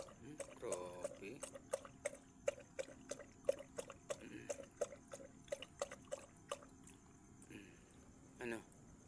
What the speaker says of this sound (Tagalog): Grabe malakas uminom ng tubig to mga idol.